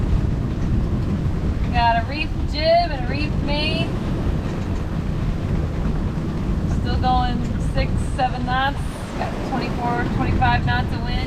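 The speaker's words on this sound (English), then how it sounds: "25 knots of wind, gusting up to 27" Strong 25-knot wind gusting to 27 roars over a reefed sailboat pounding into big waves at sea, a dense steady rush with whistling, rising tones in the rigging.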